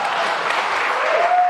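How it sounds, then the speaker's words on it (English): A conference crowd at a JavaScript meetup claps together in a brief, loud, dense burst of applause, a rough wash of many hands that holds steady without voices. "super appreciate if you cheer or clap"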